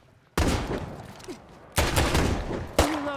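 Gunfire in the zombie survival game State of Decay 2 rings out as three loud, abrupt bursts with echoing tails, and a brief voice sounds right at the end.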